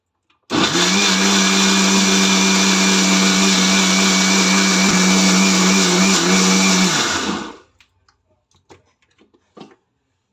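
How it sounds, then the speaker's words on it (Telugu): A mixer grinder blends juice loudly and steadily for about seven seconds with a strong motor hum, then stops, leaving faint clicks and small handling sounds. "ఇప్పుడు మిక్సీ అయింది జ్యూస్"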